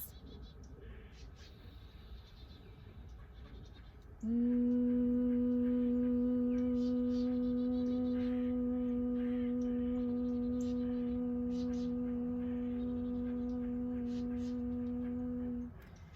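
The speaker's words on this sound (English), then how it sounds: "we're going to hum as we exhale out through the nose" A steady nasal hum starts a few seconds in and holds at an even pitch for about eleven seconds before stopping, over faint background noise.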